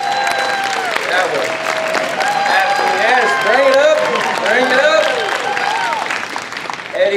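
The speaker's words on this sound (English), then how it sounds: "One more round of applause for that" A live audience at a dry ice demonstration show applauds steadily for several seconds, with dense clapping mixed with crowd murmur and some voices on top.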